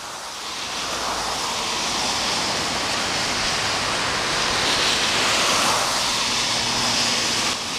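The rushing water of a river in flood in Emilia-Romagna, swollen by overnight rain, roars as a dense, steady, loud torrent with no pauses and no voices.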